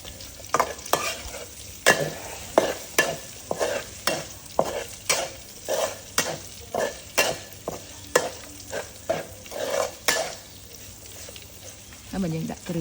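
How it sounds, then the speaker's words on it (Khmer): Pork stir-fried with crisped garlic in a pan: regular, punchy stirring scrapes over a steady sizzle, with a voice talking faintly underneath. "បន្ទាប់ពីខ្ទឹមយើងឡើងក្រៀមហើយយើងឆាវីតូគ្នាទៅ"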